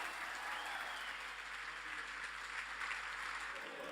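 Audience applause at a football club awards evening for player Danny Wilson, a sustained wash of many hands clapping at a steady level, heard from a moderate distance without talk.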